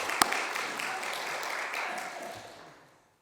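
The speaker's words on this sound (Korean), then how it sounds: "우리 박수 한번 합시다." A church congregation applauds in a dense, steady wash of clapping from the start that gradually fades away to silence near the end.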